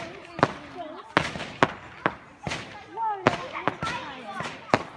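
Fireworks bursting at a Bonfire Night display in Warwickshire, a series of sharp, fairly close bangs and crackles in an irregular rhythm, with people talking throughout between the explosions.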